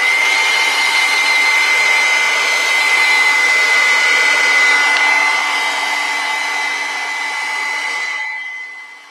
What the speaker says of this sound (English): let's give that another blow dry and then we'll put in the gold